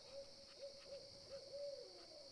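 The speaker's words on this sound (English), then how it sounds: "Hopefully you guys can hear that owl in the background." Faint owl hoots repeat at an even pace in the distance, over a steady high-pitched hum.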